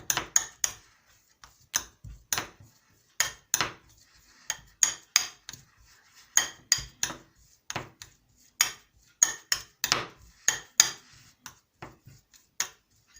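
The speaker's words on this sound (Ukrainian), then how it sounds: "Жовток потрібно роздусити, розім'яти." A fork mashes hard-boiled egg yolk in a dish for an autumn herring salad, giving steady rhythmic clinks and taps of metal on crockery, close and fairly loud, with no talking.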